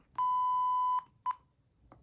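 An AT&T answering machine beeps as it is switched on: one long steady electronic tone, then a short second beep and a faint click, heard close with no talking.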